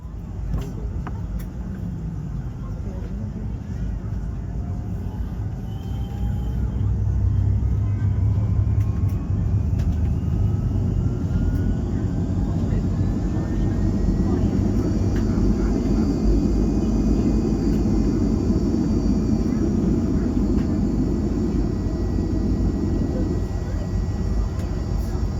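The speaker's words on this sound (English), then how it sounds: "enjoy the pure sound of those 2 Rolls-Royce engines" Twin Rolls-Royce jet engines of a Boeing 757 in flight, heard from inside the cabin as a steady, loud broadband roar with low rumble that swells slightly partway through and holds constant, with no talking.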